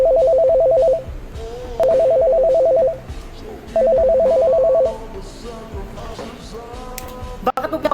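An incoming call sets off a cellphone ringtone in a home: a loud, steady melodic ring in three bursts with short gaps, then fainter household noise and a sharp knock near the end.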